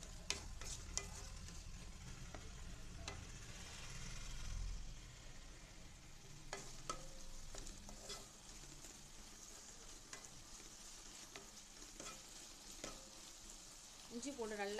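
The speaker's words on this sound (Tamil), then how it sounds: "இஞ்சி பூண்டு நல்லா, இஞ்சி பூண்டு வெங்காயம் பதங்கட்டும்." Ginger garlic paste and onions fry in oil for a hotel-style veg white kurma, giving a soft, steady sizzle with occasional clicks of stirring. The sound is faint and close, with no voices over it.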